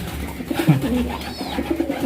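Newly brought pigeons cooing close by, a soft, low, throaty coo that rises and falls over a faint background hum.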